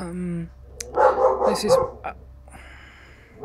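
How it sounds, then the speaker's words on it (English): A dog barks in a quick burst of several yaps close by, with a person speaking briefly before and after. "sorry about the dog barking."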